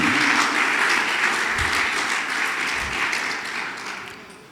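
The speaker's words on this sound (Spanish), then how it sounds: "Dele un fuerte aplauso a Jesucristo." Church congregation at a Spanish-language Christian service breaking into strong, dense applause that fills the space, gradually easing and fading toward the end.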